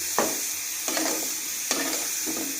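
Drumstick pieces hit hot oil and lightly fried spice paste in a pan, giving bursts of sizzling with stirring scrapes, four distinct surges over a steady frying hiss, close and moderately loud, no voices.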